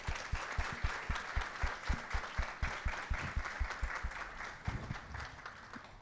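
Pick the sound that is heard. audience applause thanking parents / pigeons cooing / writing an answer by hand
audience applause thanking parents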